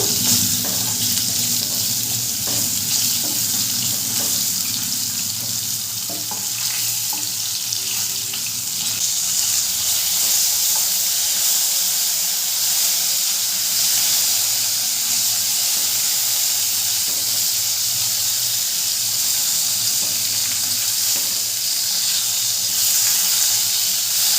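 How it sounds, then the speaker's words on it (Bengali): Sliced pointed gourd fries in hot oil in a pan, giving a steady, loud sizzling hiss with faint clinks of stirring, continuous and close. "এরপরে ওই তেলের মধ্যে দিয়ে দেবো কেটে রাখা পটলগুলো। পটলগুলো দিয়ে খুব নেড়ে চেড়ে ভালো করে ভেজে নেব।"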